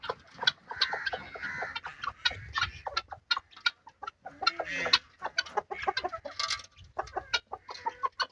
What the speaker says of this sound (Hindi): मुर्गियाँ हमारी